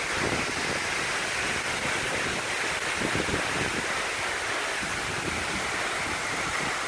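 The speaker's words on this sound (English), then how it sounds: "you got this really cool waterfall" Steady roaring rush of a waterfall in Yellowstone National Park, loud and unbroken throughout, with a faint gusty edge like wind on the microphone.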